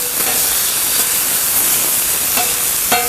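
Yakisoba vegetables sizzling on a hot catering griddle, a steady loud hiss throughout with faint clinks of a utensil scraping the surface.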